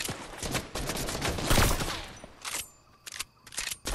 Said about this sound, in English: two people I think are shooting at me right now